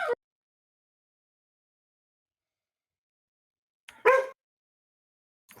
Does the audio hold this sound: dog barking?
yes